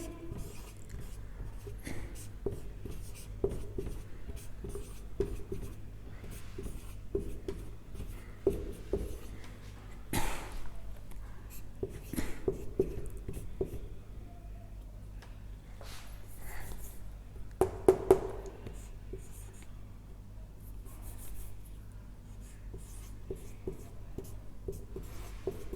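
Chalk or marker writing on a board during an electrical circuits lesson on Thevenin's theorem, with soft scratchy strokes and taps coming in short bursts, faint and close, with occasional quiet background noise.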